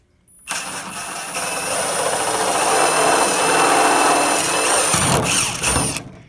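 A power drill whines steadily for several seconds, a high-pitched motor drone with a rough grinding edge as it bores a large hole through a plastic RC car body, close to the mic.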